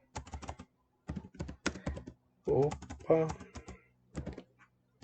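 Typing on a computer keyboard during a Google Forms setup: bursts of rapid, close key clicks in short runs separated by pauses, with a person speaking briefly in between.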